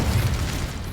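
An Incendio fire spell in Hogwarts Legacy roars in a dense, sustained whoosh of flame-like rumble and crackle lasting about a second, loud and close throughout.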